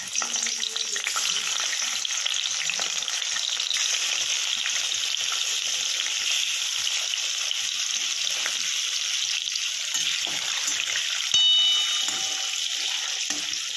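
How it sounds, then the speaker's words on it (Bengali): Fish frying in hot oil in a heated wok, a continuous bright sizzle and crackle holding steady for several seconds, close and fairly loud with no talking. "তো মাছগুলো আস্তে আস্তে ভাজা হতে থাকুক"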